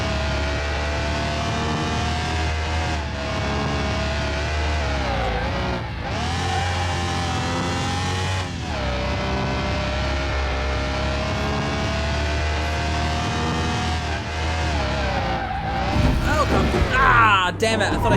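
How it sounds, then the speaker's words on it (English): A car engine revs in Car Mechanic Simulator 2021, a loud continuous drone whose pitch rises and falls through several rev swells, with a brief screeching flourish near the end. "The engine sound of this car reminds me of the Mercedes-Benz SLK from Need for Speed High Stakes"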